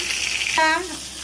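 Koi fish, marinated with chilli, salt and lemon juice, goes into hot oil with a close, brief burst of hissing sizzle, cut by a short tonal whine midway before the hiss settles.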